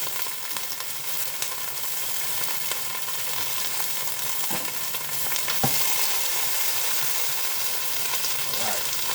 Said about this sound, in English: Grape tomatoes in. Oh, now you know the pan was hot.